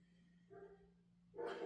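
Dogs bark nearby in two short bursts, a softer one and then a louder one, over a quiet indoor background with no talk.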